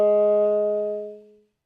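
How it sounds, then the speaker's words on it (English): A saxophone sustains a quarter-tone fingering with an exaggerated, edgy timbre, one steady held note with strong overtones that fades out after about a second and a half, played alone. "If I was doing it and I was getting carried away with the timbre,"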